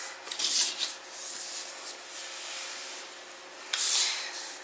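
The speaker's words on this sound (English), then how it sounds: "we are going to fold on the score lines" Scored paper for a pop-up mini album page is folded and burnished flat by hand: soft, close rubbing and brushing strokes, with a louder swipe at the start and another near the end.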